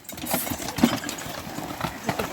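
Unbroken horses move nearby along a long riverbank, with irregular hoof clops and thuds over a low, steady rumble in the background.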